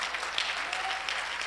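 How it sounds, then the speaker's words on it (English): A congregation claps hands steadily in a church service, dense and continuous applause with no voices standing out. "Clap your hands to the Lord."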